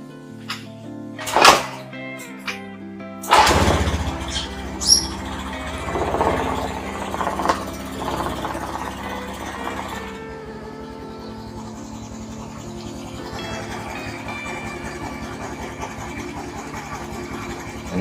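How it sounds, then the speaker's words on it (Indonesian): A 2014 Honda Beat FI automatic scooter with an electric starter cranks and fires, then settles into a steady, smooth idle. A few sharp knocks and clatters come early on, and the engine hums on alone to the end. "Ini suara mesinnya ya cukup halus ya"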